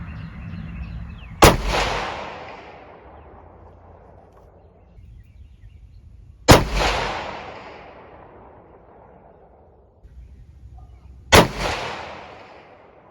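Three rifle shots ring out during scope testing with a Discovery Optics ED PRS 5-25x56 SFIR first focal plane scope. Each is a loud, sharp crack with a long echoing tail, spaced about five seconds apart, with no voices.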